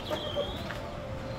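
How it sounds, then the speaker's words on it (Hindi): A hen clucks just after being caught by hand, with short agitated calls close by over a low rustling background. "ये देखें मुर्गी को हमने पकड़ लिया।"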